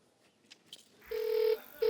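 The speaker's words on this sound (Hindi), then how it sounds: "एक मिनट फोन लगाओ, दोबारा लगा।" Two long electronic telephone tones from a phone call being placed, loud and steady with a short gap between them, after a few faint clicks.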